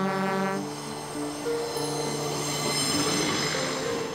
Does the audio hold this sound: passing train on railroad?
yes